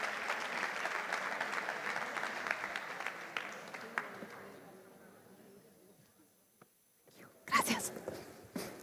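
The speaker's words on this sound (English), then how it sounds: "Big round of applause for Lisa, please." Audience applause at a conference on homelessness care, steady clapping that gradually thins and dies away into near silence before a voice speaks.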